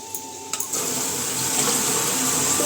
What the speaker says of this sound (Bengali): চলো মাংসটা ধুয়ে নিই